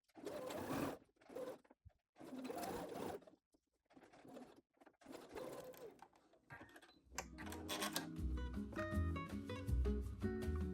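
A sewing machine stitches elastic onto a spaghetti-strap dress. The bursts of mechanical needle whir come close and clear, separated by short silences, and a rhythmic, tonal run follows toward the end.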